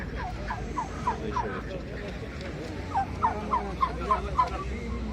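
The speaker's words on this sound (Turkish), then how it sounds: "Burada hindiler var arkadaşlar." Turkeys gobble in rapid rattling bursts at an animal market, a few at first and then a louder cluster, over outdoor background noise.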